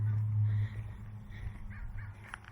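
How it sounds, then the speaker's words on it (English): Crows caw outdoors, fairly faint over a low rumbling background with distant traffic, a few scattered calls across the stretch. "I hear the birds in the sky"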